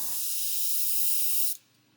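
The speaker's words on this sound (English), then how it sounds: "I've got my finger over the end of the nozzle and just blowing back" An airbrush blows back with a finger held over the nozzle while thinning paint for a 1/72 Airfix Vulcan model, a loud steady hiss that cuts off abruptly near the end.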